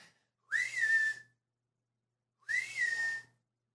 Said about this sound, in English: Let me just do this whistle real quick.